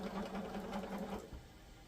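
A sewing machine stitches quilt pieces with a fast, steady close whir that eases off near the end.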